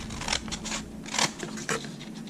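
Scissors trim paper in a few quick snips, crisp and close, with short cutting strokes spaced through a quiet room and no speech.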